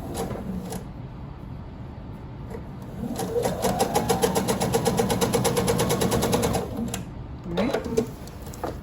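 A sewing machine runs a straight seam along quilt binding on a scrappy placemat, with a rapid, even stitching rattle that builds in the middle and stops and starts near the end.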